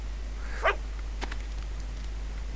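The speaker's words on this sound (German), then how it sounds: "Wir streicheln einmal den Hund." A dog being petted in the Fable 2 game gives one short bark, followed by a couple of faint clicks over a steady low hum.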